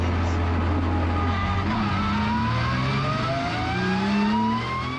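Porsche GT3 Cup race cars on the Long Beach street circuit, engines revving loudly and climbing through gears as cars accelerate past, several overlapping engine notes rising in pitch, close and dominant.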